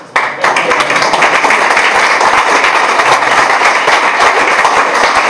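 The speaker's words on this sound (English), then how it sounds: "Let's clap for Eric" Loud, dense applause from an audience after a talk at a blockchain networking event, sustained clapping from many hands close by, filling the whole stretch without a break.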